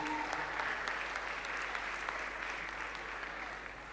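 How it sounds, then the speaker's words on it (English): A graduation ceremony crowd at a technical high school applauds in a steady, dense wash of clapping that holds level and slightly eases toward the end, heard at a moderate distance. "Let's give them another round of applause,"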